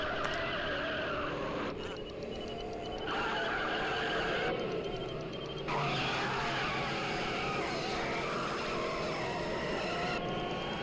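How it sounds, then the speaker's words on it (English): A car engine climbs in pitch as the vehicle gains speed, loud and continuous throughout, with a faint tire-squeal edge and brief dips as it shifts. "As time passes, this car is definitely accelerating."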